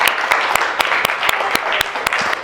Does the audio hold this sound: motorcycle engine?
no